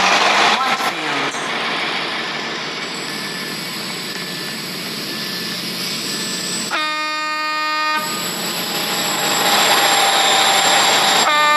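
Train standing at Stepford Central station in the Roblox game Stepford County Railway, a steady rumbling hum with a loud two-tone horn blast in the middle, under station ambience.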